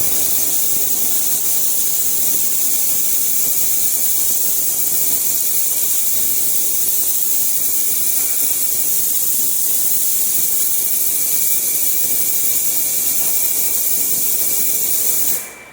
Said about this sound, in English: Let's turn the ultrasonics on and take another look.